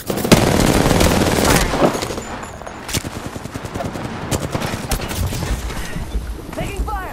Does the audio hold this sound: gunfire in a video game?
yes